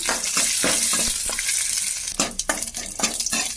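Garlic and green chillies fry in a pan with a loud continuous sizzle, broken toward the end by a run of sharp scraping and tapping stirs; no speech.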